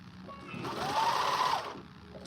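A sewing machine runs a steady burst of stitching on exotic dancewear, whirring up for about a second then slowing, close and clear over faint background music.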